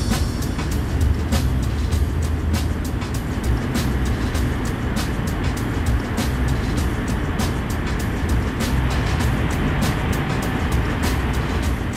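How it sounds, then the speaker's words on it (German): A train on the Lötschberg line in Switzerland enters a tunnel, a loud, steady, dense roar and rumble of wheels and rushing air that fills the whole stretch without a break, with no voices. "Der Tunnel saugt den Zug scheinbar ein."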